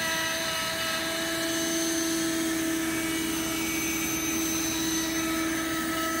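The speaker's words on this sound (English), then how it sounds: "We are using 1 inch PVC to connect the shop vac to the vacuum table." A shop vac connected by 1 inch PVC pipe to a vacuum table runs continuously with a loud, steady whine and droning hum, unchanging throughout with no other sounds.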